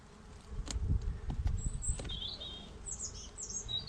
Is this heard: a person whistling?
no